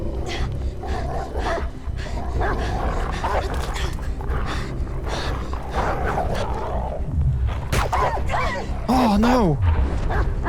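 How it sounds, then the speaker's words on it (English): Dogs in a video game bark, snarl and whimper amid a dense, loud game soundtrack, with an excited voice talking over the commotion throughout. "Don't hurt the dog!"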